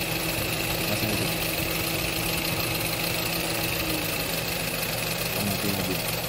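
The radiator cooling fan runs on a Nissan X-Trail T31 engine being checked after overheating from a cracked radiator, a steady whirring drone over the idling engine, recorded up close with someone talking.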